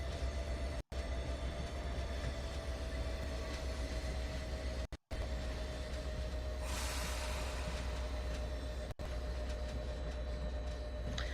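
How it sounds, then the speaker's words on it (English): A train in Microsoft Flight Simulator 2020 rumbles past in a continuous, loud, droning roll with a steady tone, punctuated by a few brief dropouts and a short hissing burst, with no talking. "this train right here, those things are fun to drive"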